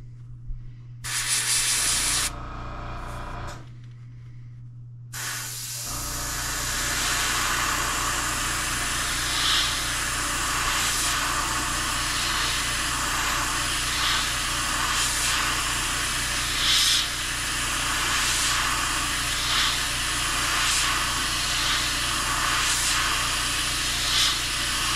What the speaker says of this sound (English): I'm just going to adjust my airbrush here just a little bit.